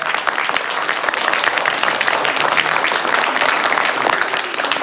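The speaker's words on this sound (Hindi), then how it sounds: "तो आप सब बच्चे मिलकर ताली बजाएंगे" Schoolchildren clapping together in a room, a dense, continuous burst of many small hands beating fast and loud with no voices over it.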